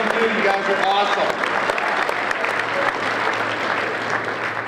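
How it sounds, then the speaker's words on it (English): Audience at a college wrestling meet applauds for military members in attendance, a dense, loud burst of clapping that holds steady and tapers slightly, while a voice speaks over it at the start. "I'd like to get a big round of applause for all the military people in attendance"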